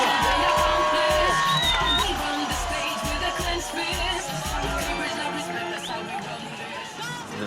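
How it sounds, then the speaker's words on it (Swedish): A crowd whoops and cheers loudly for the winners, with excited chatter and hubbub that stays strong and then slowly settles. "Kom upp, en applåd av segrarna!"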